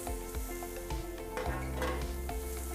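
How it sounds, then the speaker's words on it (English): Manhattan filet steaks, bone-in strip loin cuts, sizzling in an oiled pan: a steady crackling fry with a few clinks and knocks of the pan, close and moderately quiet. "You can hear that sizzle."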